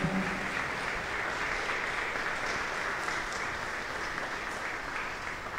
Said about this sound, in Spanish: Vamos a darle un fuerte aplauso a Nuestra Señora.